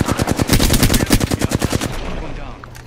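Loud automatic gunfire from a video game rattles in a fast, even rhythm for about two seconds, then stops and leaves a quieter background.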